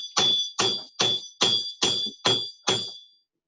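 A light hammer strikes metal while a coin ring is being forged, seven evenly spaced, loud, close blows, each with a bright ringing tone, then silence.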